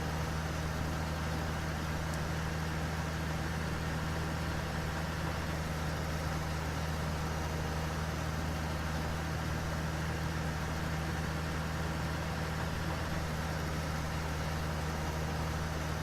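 Tractor engine in a farming video game on an old valley farm during a potato harvest, a steady droning hum with a low mechanical rumble that runs unbroken and fairly loud for the whole stretch, without talk.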